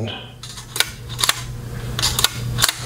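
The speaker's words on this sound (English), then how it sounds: "I'll show you the shutter" A Kodak film camera shutter clicks several times at uneven intervals, sharp and close, over faint background noise.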